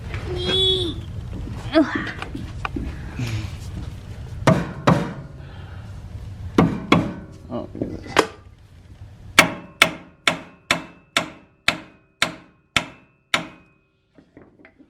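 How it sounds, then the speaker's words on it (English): A rubber hammer strikes a suspension part on a 2009 GMC truck during maintenance, giving about a dozen loud, evenly spaced knocks after scattered earlier thumps, with brief talk near the start. "Now give me the rubber hammer, please."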